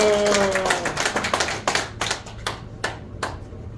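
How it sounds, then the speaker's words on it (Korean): A church congregation at a men's fellowship morning service claps to welcome a pastor to the pulpit, dense clapping at first that thins into scattered, separate claps and fades out. "나오실 때 할렐루야로 큰 박수 응원해 주십시오."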